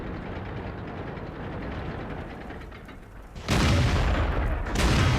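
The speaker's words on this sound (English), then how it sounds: "I managed to set him alight with my shot" A loud, heavy tank cannon shot in World of Tanks booms out of a steady mechanical engine rumble, followed moments later by a second blast.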